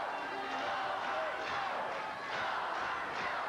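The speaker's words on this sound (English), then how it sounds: "This crowd is hyped." Wrestling arena crowd roaring, a loud, steady wash of cheering and noise filling the whole stretch, with a commentator talking over it.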